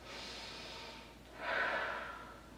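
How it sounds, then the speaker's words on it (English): Deep breaths taken while seated during an office chair yoga stretch session: a soft inhale followed by a louder, rushing exhale, close by and unaccompanied by talk. "we take our 3 deep breaths"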